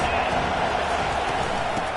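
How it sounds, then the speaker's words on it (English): Crowd noise in a college football stadium, a broad, steady roar from the stands that holds at a constant level throughout, with no distinct cheers or breaks standing out. "This crowd trying to make life miserable for this offense."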